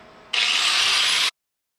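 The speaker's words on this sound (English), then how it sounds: "I'm going to flap wheel this off" A flap wheel on an angle grinder grinds metal off a dump truck in one loud, harsh, close burst of about a second that cuts off abruptly.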